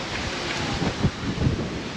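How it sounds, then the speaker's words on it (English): Strong wind buffets the microphone in a steady, roaring rush with gusty low thumps throughout, near the San Matias Beach Hotel in Palmanova, Mallorca. "and very windy."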